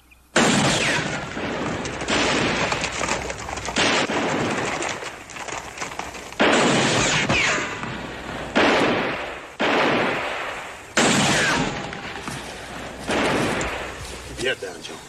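Gunfire rings out in a western TV shootout, a series of sharp loud shots spaced every few seconds, each trailing off into echo, with shouting voices between them.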